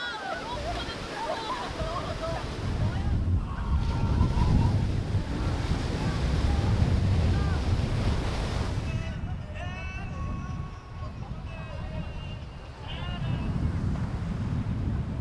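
Ocean waves wash in a steady roar at a busy Busan summer beach, with wind buffeting the microphone and a person speaking over the surf.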